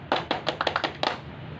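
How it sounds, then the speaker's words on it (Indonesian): A group performs the Tepuk Pramuka, the rhythmic Indonesian Scout clap: seven or so sharp, unison hand claps in a quick patterned sequence, fairly close and clear, with no talking over them. "Tepuk Pramuka."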